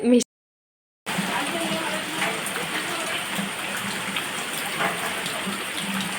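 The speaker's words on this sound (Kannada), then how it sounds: "ಮಳೆ ಬರ್ತಾ ಉಂಟು" A brief voice cuts off into silence, then steady rain falls with a dense, even hiss and scattered patters.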